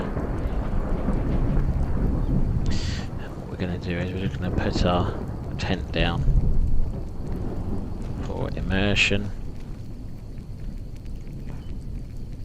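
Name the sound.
rain and thunder in the video game Skyrim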